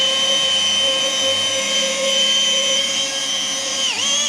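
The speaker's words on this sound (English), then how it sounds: "So just starting to polish the bonnet" A machine polisher whines steadily on the bonnet of a 1954 Ford F1, a loud sustained high-pitched tone that dips briefly near the end as the pad load changes.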